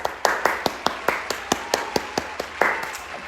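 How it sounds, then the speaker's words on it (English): A small group claps in a quick round of applause, a dozen or so distinct sharp claps in an uneven rhythm, fairly close and with no talking. "round of applause for that"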